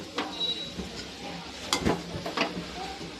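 Poha, flattened rice, being stirred and turned over in a hot pan on a morning stove, with soft scraping strokes over a faint steady sizzle, a couple of louder scrapes near the middle.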